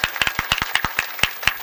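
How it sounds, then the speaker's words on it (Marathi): Scattered audience clapping at a Marathi kirtan performance, honoring the mridang players; about a dozen sharp, uneven claps ring out close and fairly loud in irregular bursts, with no other sound between them. "तिसरी टाळी होऊ द्या मृदंगाचार्यांसाठी."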